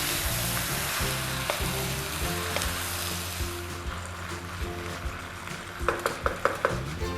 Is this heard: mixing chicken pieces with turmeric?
yes